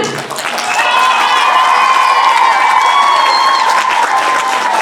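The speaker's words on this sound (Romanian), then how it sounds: "Un rând de aplauze pentru Rebecca." A large audience at a Christmas dance show applauds loudly and steadily, with some cheering and shouting mixed into the dense, sustained clapping.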